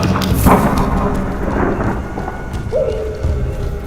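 A thunderstorm sound effect for a horror animation rumbles loud and close, deep thunder rolling over steady rain and gusting wind for several seconds.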